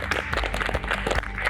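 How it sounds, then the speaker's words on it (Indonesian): An audience applauds the coaches on the Indonesian TV competition show Juragan Jaman Now Season 2, a dense, steady patter of clapping held throughout. "kita berikan tepuk tangan paling meriah untuk para coachnya"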